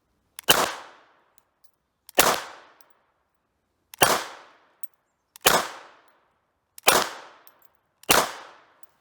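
Six evenly spaced shots from a Hi-Point CF380 pistol at a shooting range, each a sharp loud crack with a short decaying tail, roughly two seconds apart, with no talk.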